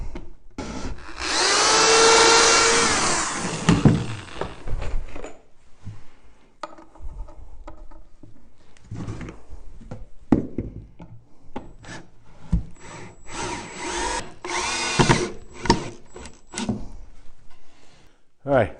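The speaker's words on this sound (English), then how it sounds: "And we'll go ahead and pre-drill our last hole." A power drill pre-drills briefly into wood for a Layens beehive, loud and close, then fades into handling noises and speech, with a short second burst later.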